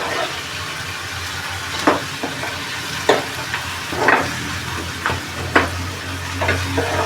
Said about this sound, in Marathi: कांदा थोडासा मऊ पडून द्यायचा कांदा जरा नरम पडला